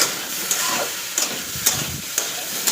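Vegetables frying in a home kitchen pan, a steady close hiss and sizzle with a few sharper crackles and spatters every half second or so, no voices.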